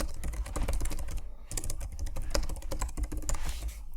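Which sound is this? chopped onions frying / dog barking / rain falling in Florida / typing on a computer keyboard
typing on a computer keyboard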